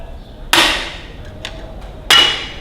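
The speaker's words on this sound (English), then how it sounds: "So we may use a screwdriver and ping them off" Two sharp metallic pings about a second and a half apart as a screwdriver knocks stubborn parts off a Ferguson TEA20 tractor, each strike ringing briefly before fading, with a faint tap between them.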